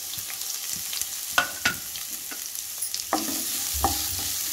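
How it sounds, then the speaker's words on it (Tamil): Chopped onion and tomato sauté in a pan for wheat kolukattai masala, a soft steady sizzle broken by sharp scrapes and clinks of a spoon stirring, close and alone. "இப்போ வெங்காயம் நல்லா வதங்கட்டும்"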